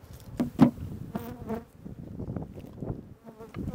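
Honey bees at a hive buzz close by in uneven bursts, droning loudest in the first seconds, then fading and returning more softly.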